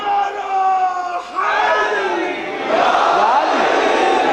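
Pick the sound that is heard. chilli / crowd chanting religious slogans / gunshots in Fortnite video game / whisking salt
crowd chanting religious slogans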